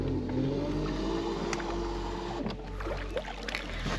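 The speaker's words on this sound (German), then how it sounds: "rückwärts fahren mit dem E-Motor" A boat on a forest lake, fishing for carp, reverses under its electric motor, giving a close, steady whine over a low hum and soft water noise, with no talking.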